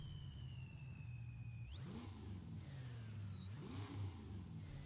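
A car engine with a custom intake in the Forza video game revs up in smooth rising sweeps, dropping back between pulls, steady and clear with no talking.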